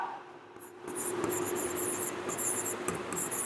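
Pen or marker writing on a board or tablet during a physics lesson on rounding off, a quick scratchy stroking in short repeated bursts, close and fairly quiet, with no talking over it.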